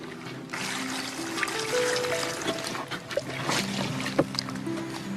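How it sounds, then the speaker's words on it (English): Water pours and trickles steadily onto a plastic sheet laid over a hole lined with leaves, close and fairly loud, with no voices. "Now I'll just put the water in the plastic"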